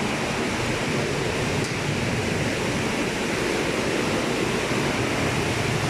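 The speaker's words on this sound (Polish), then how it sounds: "Wchodzimy do komory napowietrzania. Słychać już charakterystyczny szum." Loud, steady broadband rushing of water and air from Białystok nozzles in a water aeration chamber, jets churning in an enclosed space, unchanging throughout with no voices.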